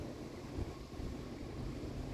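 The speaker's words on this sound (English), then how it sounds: "it's super windy" Strong outdoor wind buffets the microphone in a steady low rumble that swells and dips over two seconds, with no voices.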